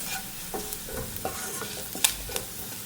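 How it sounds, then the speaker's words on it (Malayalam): Garam masala and spices fry in a pan for egg curry while a spoon scrapes and stirs in repeated strokes over a soft, steady sizzle, heard up close with no talking. "ഗരം മസാലയും ചേർത്ത് കൊടുത്തതിന് ശേഷം നന്നായിട്ടൊന്ന് ഇളക്കി കൊടുക്കാം"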